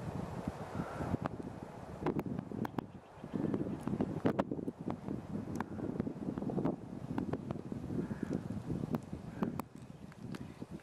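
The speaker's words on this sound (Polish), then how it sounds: "Wiatr trochę wieje" Wind gusts buffet the microphone in low, uneven rumbles, with occasional crackles and pops; no voices.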